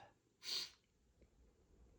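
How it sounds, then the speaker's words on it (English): A single sharp sneeze, set off by dust during house cleaning, bursts out once near the start and then fades into quiet room noise. It is faint and stands alone. "here comes the sneezes, I guess"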